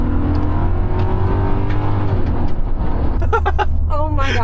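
A 1997 Mercedes E60 Renntech 420 hp sedan accelerates hard from inside the cabin, a loud steady engine drone rising under road roar, with people talking and exclaiming over it near the end.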